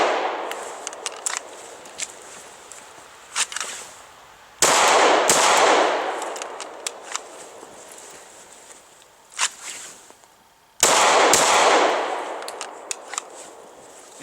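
A Glock 23 Gen 4 pistol fitted with a Trijicon RMR red dot fires at a target, two loud sharp shots spaced about six seconds apart, with small clicks and handling rustles in between.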